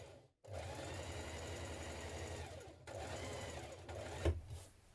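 A sewing machine runs a line of gathering stitches on a blouse, whirring steadily in two runs split by a short stop, with a small knock near the end.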